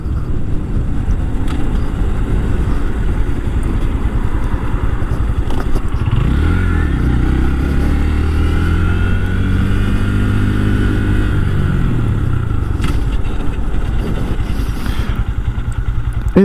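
Engine of a 2024 Honda Grom motorcycle revving up and easing back down while riding, a close, loud small-displacement buzz rising in pitch mid-clip over steady road and wind noise.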